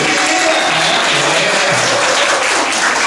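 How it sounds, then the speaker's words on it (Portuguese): A church audience applauds with steady, dense clapping that fills the room for several seconds, loud and close, with no voice on top. "Olha, gente, aplaude a minha."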